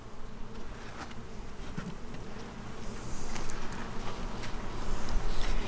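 Honeybees buzz steadily from an opened beehive, a dense, close hum that swells louder toward the end with no talk over it.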